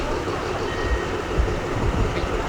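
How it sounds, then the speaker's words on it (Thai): A passenger train bound for Bangkok, Thailand rolls past close by in hot weather, its steady loud low rumble of wheels and cars continuing throughout with slight swells, no voices over it. "รถไฟจะไปแล้ว รถไฟจะไปกรุงเทพ"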